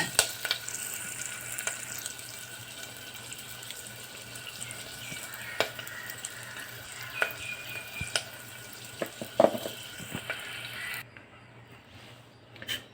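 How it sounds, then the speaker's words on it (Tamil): Buttermilk poured into a pan of sautéed curd on the stove for a Tamil mor kuzhambu, a continuous watery hiss and sizzle with scattered clinks that stops abruptly near the end. "மோர் ஃபுல்லாக ஊற்றிட்டேங்க"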